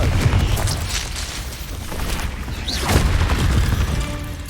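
Confringo spell explosions in Hogwarts Legacy, a video game, as deep booming blasts with crackling debris, rolling in heavy waves and swelling again toward the end.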